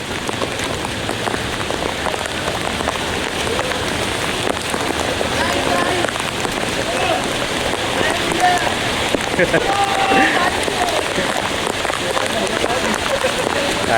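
Extreme heavy monsoon rain in Mumbai pours steadily, a dense constant patter of drops, while people talk over it.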